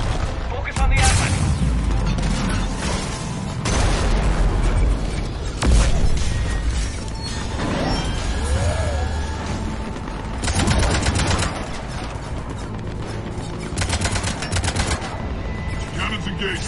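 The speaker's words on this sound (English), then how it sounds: "Cannons engaged." Ship cannons firing in the video game Mass Effect 3, repeated heavy blasts and rapid bursts of fire with mechanical clanks and booms, loud and close, with spoken voices in places.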